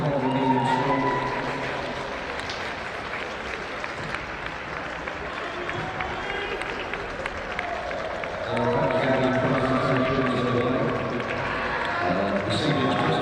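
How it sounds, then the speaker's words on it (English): Applause for two school football teams, Hartpury College and Cardinal School, at the English Schools Football Association National Finals: steady sustained clapping from a crowd, loud and continuous throughout, with a brief swell partway and some voices underneath. "Let's give both of our teams a big, huge round of applause"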